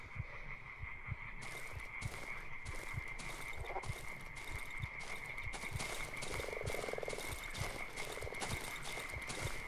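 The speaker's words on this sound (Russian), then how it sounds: "А кто здесь квакает?" Frogs croak throughout a swamp in the video game Darkwood: a dense, rhythmic chorus of repeated croaks over a low watery backdrop, with no talk.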